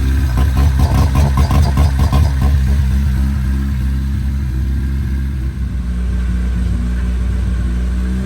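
A junkyard Honda Civic limo's engine runs steadily at idle, a low, continuous rumble close by; it is overdue for new spark plugs and has a broken throttle position sensor.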